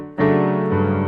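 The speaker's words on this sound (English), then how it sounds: "there's this really cool bass line in the left hand that sounds like this" A piano bass line played with the left hand sounds as two sustained low notes, the second entering partway through, clear and close with no voices.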